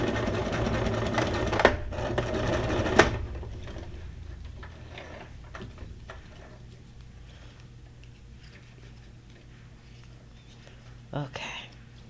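A sewing machine runs in a loud, fast mechanical chatter for about three seconds and then stops. Quieter clicks and handling sounds follow, with a faint voice in the background.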